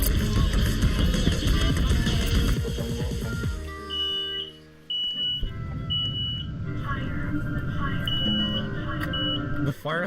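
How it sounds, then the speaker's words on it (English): A smoke alarm set off by concrete dust beeps in repeated high shrill bursts through the second half, preceded by loud mixing and clattering noise, with a person talking over parts of it. "Fire alarm's going off from the dust in my road, dude."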